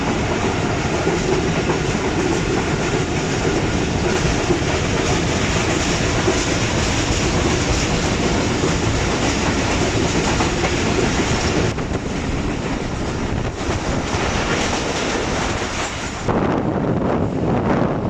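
The Shah Hussain Express runs on the rails between Lahore and Karachi, a loud, steady rumble of wheels and wagons with a faint clickety-clack and wind buffeting the microphone, continuing throughout with a brief shift in tone near the end.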